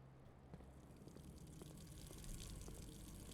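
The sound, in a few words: running water in the Blue Prince video game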